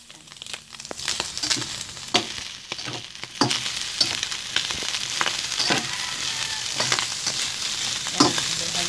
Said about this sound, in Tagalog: Tapakpan po muna natin hanggang mag-brown yung karne.